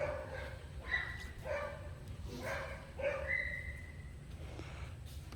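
A dog on a walk gives several short yips and whines at intervals, fairly close, with a low steady rumble of outdoor background underneath.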